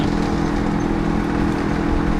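A tractor engine chugs at a steady, low mid-pitched rumble as it backs up, pulling a cut tree piece on a rope, constant and fairly close with no talking.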